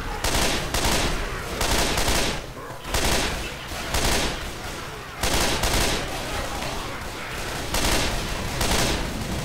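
Sustained rapid gunfire fills a zombie co-op shooter game, with dense overlapping bursts and booms running continuously and loudly throughout.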